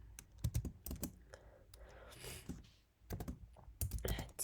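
Computer keyboard being typed on to enter a command, quick bursts of close, faint key clicks with a short pause in the middle, then more rapid keystrokes.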